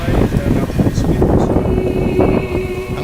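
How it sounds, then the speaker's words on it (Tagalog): Wind by the sea on an island, gusting and buffeting the microphone in rough, uneven bursts at close range, with a faint boat-like drone underneath. "Ang hangin porkit nasa tabi ng dagat, di ba?"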